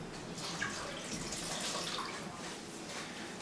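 Warm water pours steadily into a mixing bowl for artisan bread dough, a continuous close splashing hiss lasting a few seconds with no talking.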